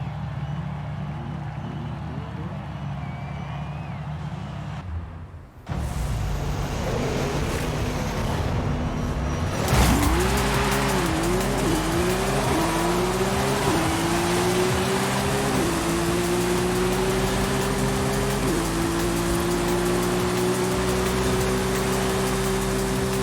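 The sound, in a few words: Koenigsegg car accelerating in video game Forza Horizon 5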